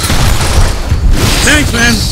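Gunfire blasting a propane tank in Gears of War, a loud continuous barrage of shots and booming impacts with a voice speaking over the end.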